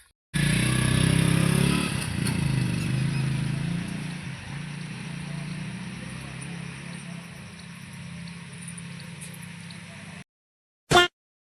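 A motorcycle rides along with a steady, close engine drone and wind rumble that stays fairly even for about ten seconds, then cuts off, followed by a short burst of noise.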